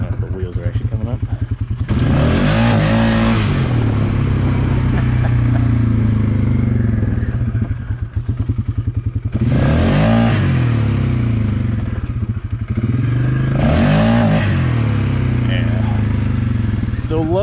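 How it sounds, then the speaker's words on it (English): Motorcycle engine revving hard and bouncing off the rev limiter in low gear during wheelie attempts, a loud, close, buzzing roar in repeated surges with stuttering cut-outs, mechanical clatter underneath and someone talking over it. "I'm bouncing off the rev limiter pretty good"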